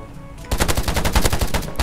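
Enemy automatic gunfire rattles in a shooting video game as a fast, loud burst of closely spaced shots begins abruptly and continues for over a second.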